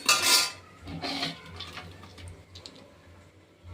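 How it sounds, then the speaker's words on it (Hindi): Coriander seeds dry-roast in a pan as a utensil stirs and scrapes, sharp metallic clatter up close at first, then softer intermittent scraping and ticking, with no one speaking. "तो चलिए धनिया को भूंज लेते हैं"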